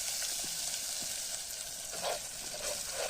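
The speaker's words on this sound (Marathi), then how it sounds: "कांदा मित्रांनो आपण सुरुवातीला तसंच भाजून घेतोय बिना तेलाचा कलर चेंज होईपर्यंत यामध्ये आपण आता तेल ऍड करतोय" Onion frying in oil in a pan, a loud, continuous close sizzle with a few soft stirring knocks, no voices.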